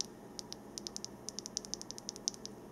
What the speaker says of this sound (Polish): Tutaj ten przycisk działa bezproblemowo